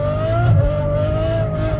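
Ferrari F12 engine pulling hard while driving through snow, a loud, steady high-revving drone that holds its pitch with only a slight dip midway, close and continuous without any talk.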